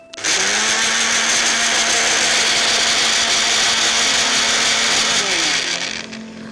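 Electric blender running loud and steady on grapes with sugar and lemon juice, a dense continuous whir starting abruptly and holding for several seconds before winding down, no talking.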